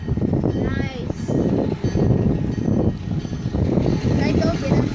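A Wabash F7 diesel locomotive approaches at a train museum with a steady low engine rumble and some wind buffeting on the microphone. Voices talk over it.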